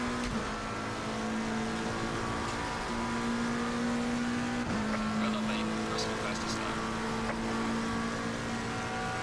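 A race car engine in a sim racing game played on a Cammus direct drive wheel holds a steady high drone that dips briefly, then climbs again, with faint ticks and clicks over the top.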